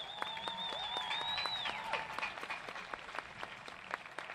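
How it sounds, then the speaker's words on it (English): A graduation crowd at a university commencement applauds faintly from a distance, scattered claps mixed with whistling and cheering. "Let's give them a round of applause."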